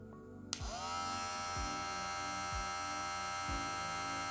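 A Kemei electric hair clipper with a full metal body switches on with a sharp click and settles into a steady, close, buzzing motor hum that holds constant to the end, with no talking.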